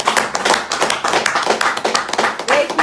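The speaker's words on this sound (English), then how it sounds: "please clap for all our viewers" Clapping from a small group at a live hangout broadcast from Kano, a brisk, uneven run of close hand claps, loud and near, with voices mixed in.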